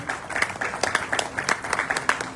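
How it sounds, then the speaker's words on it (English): Loud applause fills the hall at a Rotary club installation ceremony, steady clapping from a crowd with individual claps standing out, continuous throughout. "by none other than a loud applause"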